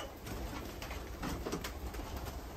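Tumbler pigeons in a loft cooing softly, low murmuring calls against a steady background hiss, heard at a moderate distance.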